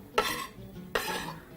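Chopped ingredients for an egg curry drop into a pan in two quick bursts, each a short rattling clatter of pieces landing, close and clear with no talk.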